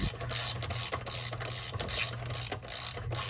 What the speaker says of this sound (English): now we're tightening these up, and you'll see them kind of compress a little bit